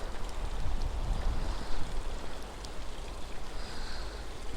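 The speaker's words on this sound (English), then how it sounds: "Actually see the water running off the land." A small waterfall runs off the land over a sandstone sea cliff at Filey Brigg, giving a continuous rushing, splashing wash mixed with nearby surf and light wind, fairly even with slight swells in loudness.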